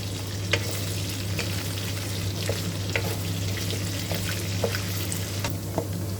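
Pork belly deep-fries in a large amount of oil, a steady dense sizzle with scattered crackles and pops running continuously throughout, close and fairly loud with no talk over it.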